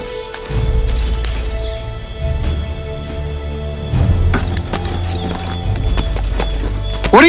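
Steady clip-clop of horse hooves at a gallop in the video game Assassin's Creed III Remastered, loud and continuous, with a horse's whinny near the end.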